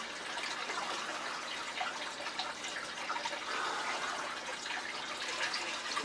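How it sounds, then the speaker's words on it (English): Water being poured back into a home aquarium during a water change, a steady continuous splashing and trickling close by, even in level throughout with no voices. "now we're going to add our water back in"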